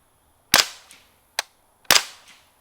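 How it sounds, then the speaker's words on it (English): Three suppressed shots from an FN P90 fired at an outdoor range, each a sharp crack with a brief decaying tail, the first and third louder and the middle one shorter, spaced roughly half a second apart with no talking. "now I'll stop shooting it at steel"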